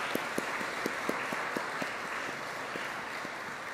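Congregation at a bilingual First Holy Communion Mass applauding the communicant children, a steady wash of many hands clapping with some individual claps standing out, moderately distant and filling the space.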